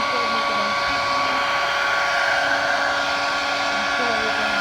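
A hot hair dryer blows steadily and loudly at close range, used to soften the adhesive on a motorcycle tank pad so it can be peeled off, with an even whine and no pauses.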